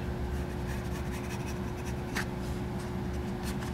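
Blade or scissors cutting out a leather holster pattern, a close, steady scraping and rubbing over a constant low hum, with soft irregular strokes and no talking.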